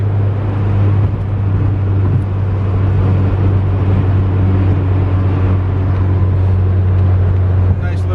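Steady low drone of a car cruising along an empty highway in limp mode, its Honda D17 engine holding a constant hum with road and wind noise, continuous and fairly loud throughout.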